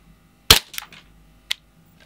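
A Western Arms Pro Carry Custom wood-grip airsoft pistol fires a single sharp, close crack followed by a brief rattle, then a second short, lighter snap about a second later in an otherwise quiet room.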